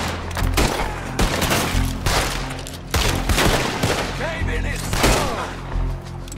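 Rapid bursts of gunfire fill a Red Dead Redemption 2 shootout, loud and dense volleys of shots cracking close one after another, with a voice faintly underneath.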